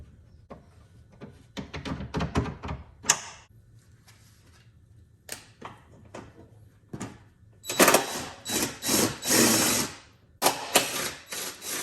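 A wrench torques a bolt during a Tesla Model 3 power frunk installation, giving close, irregular metallic clicks and ratcheting. A denser run of loud rattling bursts follows near the end.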